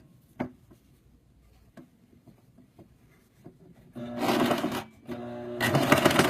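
A sewing machine sewing a garment stitch, preceded by a few soft ticks and taps, then two short bursts of motor running close and fairly loud.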